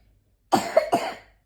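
A short burst of two or three harsh coughs close to the mic, run together in about a second, with no talking.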